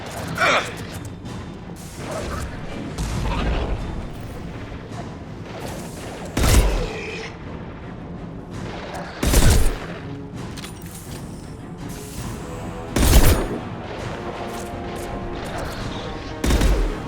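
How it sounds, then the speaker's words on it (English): High-impact gunshots in the video game Mass Effect 2, four loud, sharp blasts spaced several seconds apart over a low ambient combat bed with softer thuds between them. "Firing a high impact shot."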